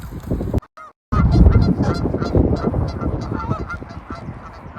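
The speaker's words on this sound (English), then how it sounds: "Geese talking to each other." Loud geese honk close by at a fishing lake, a burst of calls, a brief pause, then a continuous noisy chorus of honking.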